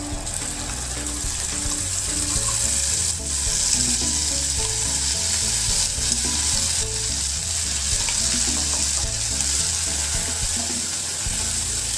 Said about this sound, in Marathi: जिरे तडतडायला लागले की आपण जे मगाशी वाटण तयार केलं होतं ती प्युरी घालणार आहोत.